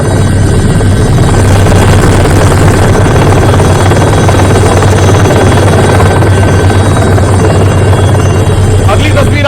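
An Indian Air Force rescue helicopter hovers over floodwater during Cyclone Ditwah in Sri Lanka, its rotor and engine a loud, close, continuous roar that dominates throughout.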